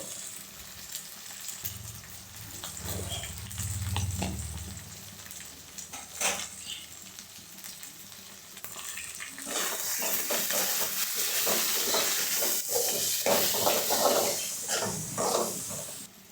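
Brinjal pieces frying in a pan over fried onion, with an initial sizzle that swells into loud, continuous crackling and bursts of stirring scrapes, close up and without talk.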